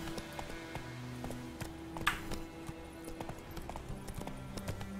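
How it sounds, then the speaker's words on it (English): Steady clip-clop of the horse Roach's hooves galloping in the Witcher 3 video game, a quick continuous rhythmic beat over low game music, with a brief whinny-like accent. "Ah, so fast, Roach"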